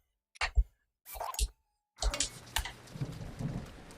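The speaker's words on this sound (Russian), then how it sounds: "У него постоянно лупит молния." Lightning strikes again and again in The Legend of Zelda: Breath of the Wild, each one a sharp thunder crack. The cracks come in separate bursts, followed by rolling rumble and a rain-like hiss, with no talking.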